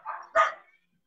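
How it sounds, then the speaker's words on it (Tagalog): A dog gives two quick barks, the second louder and sharper, fairly close and alone against a quiet background. "May aso."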